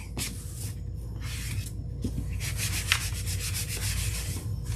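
Close, rasping strokes of a small sanding block on scrap 4x4 wood come in irregular bursts at first, then settle into a quicker, steady back-and-forth rhythm.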